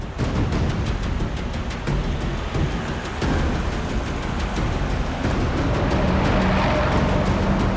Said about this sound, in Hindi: सर इसने गाड़ी तो जगत नगर की तरफ मोड़ ली